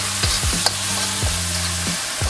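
Pork cubes frying in a pan for bagoong Chinese fried rice, a steady loud sizzle with a few sharp knocks of a utensil against the pan, no voices.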